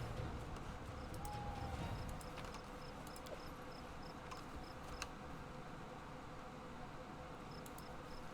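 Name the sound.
lone cricket chirping in video game Pathfinder: Kingmaker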